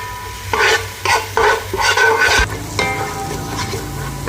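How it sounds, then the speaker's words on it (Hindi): Masala with green chillies frying for chole, a spatula scraping and stirring in the pan in several loud bursts over a continuous background sizzle, close by. "इसको हम भून लेंगे।"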